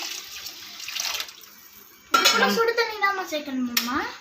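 Hot water is poured into a pot of biryani on a home stove, starting with faint clinks of utensils and then a sudden steady splashing gush that fills the pot, close and fairly loud.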